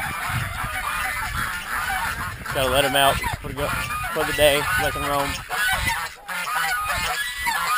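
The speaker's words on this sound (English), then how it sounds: "You can hear the geese." Geese on an off-grid homestead honk loudly and repeatedly in bursts close by, mixed with other fowl, while someone talks over them.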